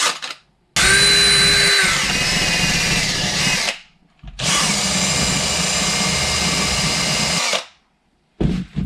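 A drill-mounted wire brush scrubs rust off parts from a Suzuki DR 650 motorcycle under restoration, whining loudly in two long bursts separated by short pauses, its gritty scraping set against a high motor pitch that dips as it bites.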